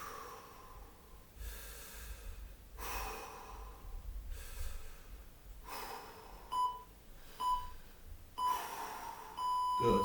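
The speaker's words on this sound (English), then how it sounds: "Big deep breaths." Deep, rhythmic breaths drawn in and pushed out during a plank hold in an abs HIIT workout, several slow cycles close to the mic, with faint electronic beeps near the end.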